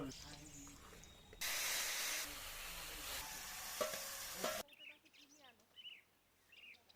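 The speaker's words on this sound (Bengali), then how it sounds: "তেল গরম হয়ে গেছে দিয়ে দেব কালো জিরে ওটা শুকনো লঙ্কা" Black cumin and dried chili hit hot oil for a tempering while cooking porul greens with shrimp, giving a loud, close sizzle for a few seconds that cuts off abruptly, followed by quieter kitchen sounds.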